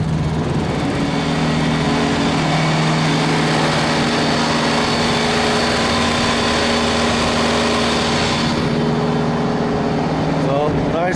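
A Kenworth T680 truck engine idles as a steady, loud, low drone with a constant hum and no talk over it.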